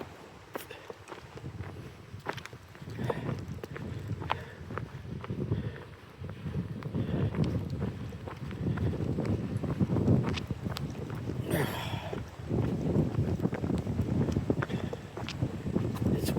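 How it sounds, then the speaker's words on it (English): Wind gusts over a rocky boulder-field stretch of the Appalachian Trail, with rumbling microphone buffeting and intermittent footsteps crunching on rock throughout, steady and fairly loud. "It's windy."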